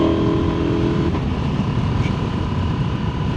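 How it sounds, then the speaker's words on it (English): Engine of a KTM Duke motorcycle idling and revving briefly, a steady rumbling drone close by and fairly loud throughout, with a faint rising whine near the start and no talk over it. "give you a little engine sound on the Duke"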